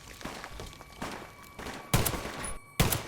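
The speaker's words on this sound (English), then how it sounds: "We're gonna shoot him in a duel." Gunfire in a Fallout New Vegas duel, with two heavy booming shots standing out over a busy game soundscape of thuds and ambient noise, no voices.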